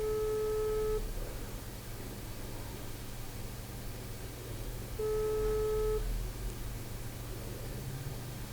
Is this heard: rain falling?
no